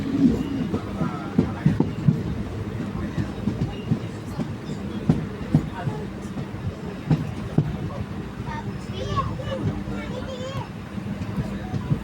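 The 17644 Kakinada Town–Chengalpattu Circar Express rumbles along with steady rhythmic clickety-clack of wheels over rail joints, heard from inside the moving coach, with low voices of passengers around.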